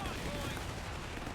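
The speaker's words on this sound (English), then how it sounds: "The cut cannon, firing all day long into your base." Cannon fire in the real-time strategy game Company of Heroes 3, a dense, continuous barrage of booming shots mixed with other battle noise, loud and steady throughout with a voice talking over it.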